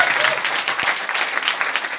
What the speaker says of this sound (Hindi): एक बार तालियां बजा दो जोरदार